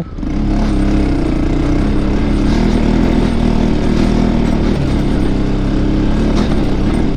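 Several motorcycles in a small group ride along a narrow rural road near Chuchedhunga and Ranikot, their engines droning loudly and continuously throughout, with steady low rumble and no pauses.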